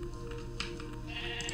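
Sheep bleating in the video game Minecraft, several short wavering calls repeating over a steady game background, clear and moderately loud with no talking.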